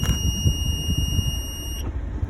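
A motorhome's electric step warning buzzer sounds a steady high-pitched electronic tone continuously for about two seconds, then cuts out, over low rumbling background noise.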